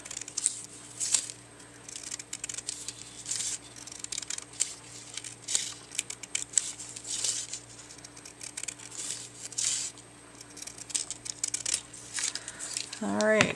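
Scissors snip through paper for an art journal page, a quiet close series of crisp cuts at an uneven rhythm mixed with light paper crinkling.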